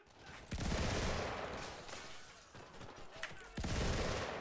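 Video-game fire from a Johnson LMG: sustained, dense bursts of rapid gunshots with booming low-end thumps and brief lulls, loud and close.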